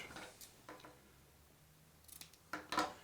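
A few quick snips of scissors cutting tape, soft and close, with a pause between an early pair and a louder cluster near the end.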